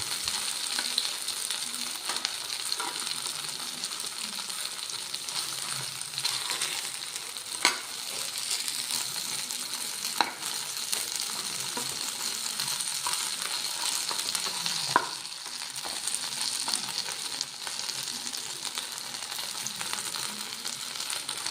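Brinjal (eggplant) fry crisping in hot oil gives off a steady, close sizzle throughout, with a few sharp clicks from stirring in the pan and no one talking.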